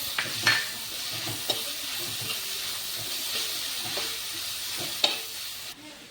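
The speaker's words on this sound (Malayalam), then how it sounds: "അടുത്തത് ഇഞ്ചിയും വെളുത്തുള്ളിയും പേസ്റ്റ് ഇട്ട് കൊടുക്കാം." Ginger-garlic paste fries in a pan for a Kerala evening snack, giving a steady bright sizzle and hiss throughout, with a few sharp clinks and stirring scrapes. The sizzle cuts off abruptly near the end.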